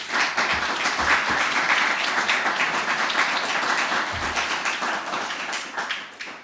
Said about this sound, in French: J'aimerais qu'on l'applaudisse pour son très grand effort, Mme Micheline Vien.